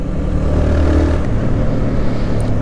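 Honda CBR 125 motorcycle being ridden, its small engine giving a steady, continuous drone with a droning low hum and wind rush, moderately loud and unbroken throughout.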